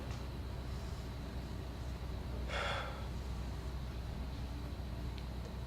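One deep, breathy inhalation taken before a personal confession in a theatre monologue performance, a short soft rush of air over a constant low room hum, no talking.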